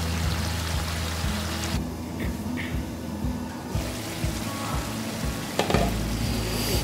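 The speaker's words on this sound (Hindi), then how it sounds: "मज़ीद 2 मिनट इसको मैं तेज़ आंच पे भूनूंगी" Apple gourd (tinda) curry fries on a high flame, with a steady sizzle and scraping stirs throughout, briefly quieter in the middle.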